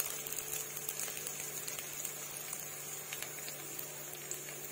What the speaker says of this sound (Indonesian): Okay, kita tumis bawang dulu.